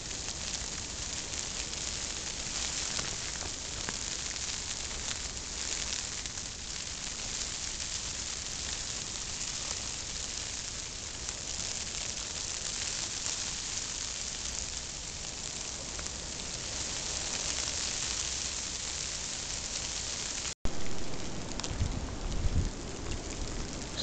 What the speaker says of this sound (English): you'll be able to hear the snow against the fabric of the tent